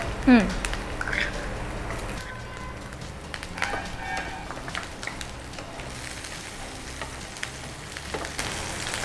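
Chilli is tipped into a pan of aloo manchurian, setting off a steady, fairly quiet sizzle and frying crackle that runs throughout, with a brief louder splash at the start and faint voices in the background.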